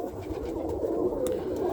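Roller pigeons cooing in a crowded hen loft, soft low throaty coos overlapping in a close, steady murmur for a couple of seconds.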